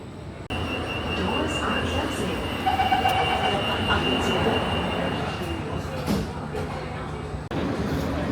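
Singapore metro train running, a steady broadband rumble with a sustained high wheel squeal and brief clunks, fairly loud and continuous throughout, with faint background voices.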